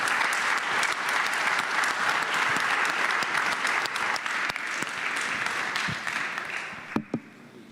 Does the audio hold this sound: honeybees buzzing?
no